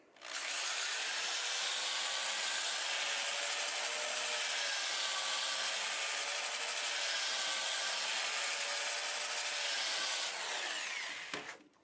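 Sandpaper pressed against stubborn black oak spinning on a wood lathe at 350 RPM, a steady loud abrasive whir with a humming motor tone, running continuously for about eleven seconds before winding down at the end.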